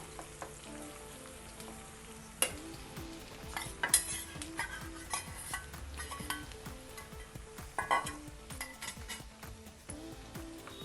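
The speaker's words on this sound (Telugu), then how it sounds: "ఇప్పుడు మనము ఈ దొండకాయ ముక్కలు ఇందాక పక్కన పెట్టుకున్నాం కదా, అది వేసేద్దాము" Tindora (ivy gourd) pieces tipped into a pan of cooking onions, giving a soft close sizzle with scattered clinks and scrapes of a spoon stirring against the pan.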